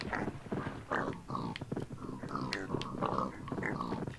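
Pigs in the Minecraft video game, crowded together in a pen, giving repeated short grunts and oinks that overlap in a busy, close, steady stream.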